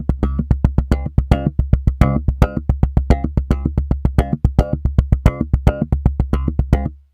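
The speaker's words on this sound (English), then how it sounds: "but if I use my fingernail in different places, it sounds like this." Harmonics plucked with a fingernail on a SlapStick instrument ring out as a rapid, steady run of bright, bell-like notes, each with a sharp attack and quick decay, played solo and close.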